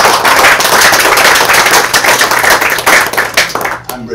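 Loud, dense round of applause from a dinner crowd honoring a guest at a pork-themed James Beard dinner, steady clapping that thins out briefly at the very end.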